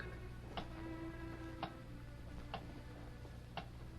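A big clock ticks slowly and steadily, four sharp ticks roughly a second apart, faint against a low steady hum, as a radio drama effect.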